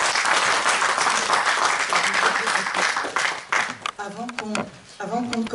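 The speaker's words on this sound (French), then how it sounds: "Je vous invite à les applaudir chaleureusement" Warm audience applause at a poetry reading and talk on war and poetry, steady at first then thinning out as a voice begins speaking over the last clapping.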